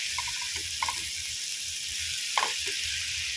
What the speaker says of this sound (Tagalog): hayaan lang muna natin na medyo masangkot na siya